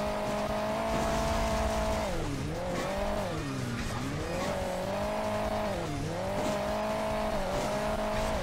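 Car from the mobile game Hill Climb Racing 2, a loud, steady engine drone whose pitch dips and rises as it revs and shifts, with some tire squeal, continuous and up close with no talking.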